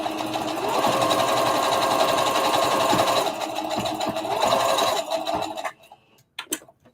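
A sewing machine stitches the seam of a circle dress in a steady, loud, fast run that briefly eases around three seconds, resumes, then stops near six seconds, leaving a few faint handling clicks.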